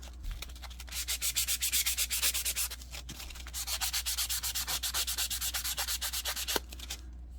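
Altered playing cards are sanded by hand in steady rapid back-and-forth scrubbing strokes, a close rasping rub that pauses briefly near the middle before resuming.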